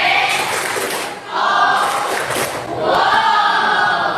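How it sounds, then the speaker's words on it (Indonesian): School classroom audience doing a clapping cheer: a burst of group clapping and shouting, then a short dip, then two more waves of the same close, loud cheer. "Oke, boleh tepuk wow untuk Syifa."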